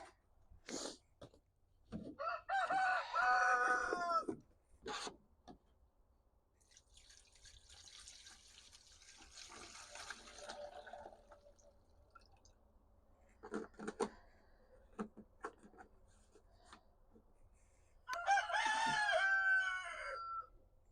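Several roosters crow in turn in a garden, loud repeated cock-a-doodle-doos separated by quieter stretches with faint clucking and small clinks, no talking.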